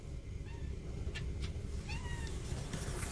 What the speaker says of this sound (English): You might be hearing my cat trying to break into the room.